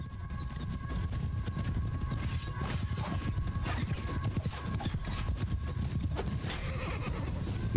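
Dense, continuous hoofbeats of many horses galloping in a Mount and Blade Bannerlord battle, with occasional whinnies and distant battle clatter, loud and rhythmic throughout.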